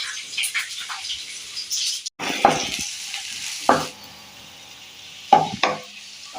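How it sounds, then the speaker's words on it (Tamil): A handful of onion drops into hot oil and deep fries, giving a bright crackling sizzle broken by a few louder splashes and stirring clatters, close by with no talking. "கொஞ்சம் கைப்பிடி வெங்காயம் எடுத்து அதில் போட்டு கொஞ்சம் டீப் ஃப்ரை பண்ணிக்கலாம்."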